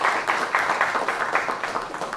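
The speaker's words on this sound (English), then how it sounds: "Can I hear a little bit of more applause?" Crowd applause at a live event, a dense, sustained wash of many hands clapping at moderate distance, rising and falling slightly with no talk over it.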